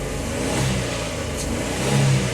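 A Renault Twingo with a camshaft position fault (DF363, P0011) runs rough and is held alive with the throttle. The engine revs steadily and close up, with small swells in pitch and a brief rise in effort near the end.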